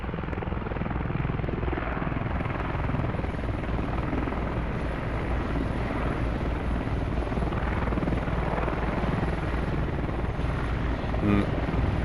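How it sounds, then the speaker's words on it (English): Helicopter in the video game Squad flying in low on approach and setting down near an open field, its dense rotor and engine roar steady and loud throughout, with faint speech mixed in. "Here comes the heli. Pretty low in approach, and it looks like he's gonna get landing pretty close here."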